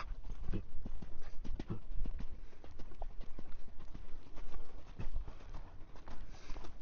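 Horse hooves clip-clop steadily on firm ground as a horse is ridden and brought to a stop, the irregular hoofbeats close and fairly loud with light background noise.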